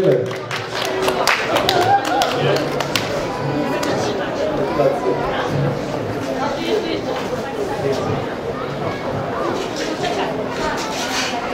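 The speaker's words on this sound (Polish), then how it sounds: "Brawa!" Audience at an award ceremony during the Marklowice town days applauds, sustained clapping loudest at the start and fading gradually, mixed with crowd chatter and voices throughout.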